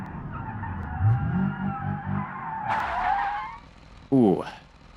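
An almost stock car drifting in a video game gives a rising engine drone, then a long tire screech and a sharp final squeal, close and loud, with a voice briefly present.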